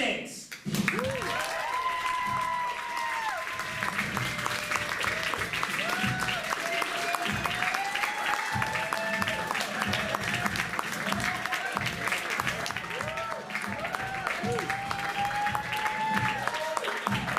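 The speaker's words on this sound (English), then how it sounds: "Let's give a big round of applause and welcome tonight's candidates." Studio audience applauding to welcome the candidates at a mock presidential debate show, steady dense clapping with cheers and whoops throughout, voices mixed in.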